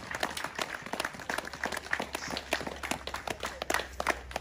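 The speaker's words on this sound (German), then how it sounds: "Ein Applaus für die Dame." An audience at a public gathering in Rheinstetten gives a modest round of applause: scattered, crisp individual claps in an uneven rhythm, fairly close and moderately loud, with no steady roar building up.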